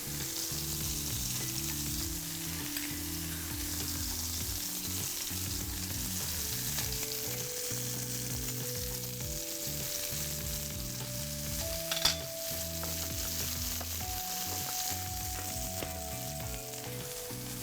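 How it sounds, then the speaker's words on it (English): A small knob of butter in a heating frying pan, used for toasting burger buns, gives a steady, moderate sizzle and crackle that runs continuously over a low background drone, with no talking. "I'm gonna start heating up my pan. And I'll add just a small knob of butter."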